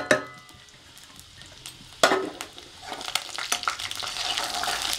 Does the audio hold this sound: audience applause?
no